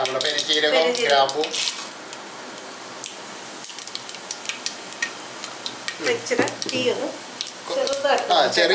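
Oil crackles and sizzles with scattered popping ticks as mustard seeds and a bay leaf fry in a pan while a person talks over it.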